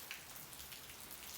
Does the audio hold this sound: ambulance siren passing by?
no